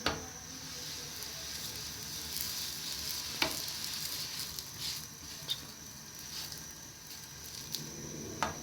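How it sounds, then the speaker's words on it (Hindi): Shawarma bread warming in a pan with a little oil, a soft continuous sizzle with occasional light taps and clicks from handling. "अब हम ब्रेड को हल्का सा गरम कर लेते हैं।"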